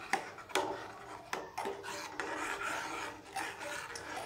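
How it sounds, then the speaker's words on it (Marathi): A rice kheer mixture of rice and milk is stirred in a pot over a low flame, giving repeated scraping, rasping strokes of a spoon against the pan, close and fairly loud with irregular rhythm and no voices. "हे मिश्रण हलवत राहायचं आहे"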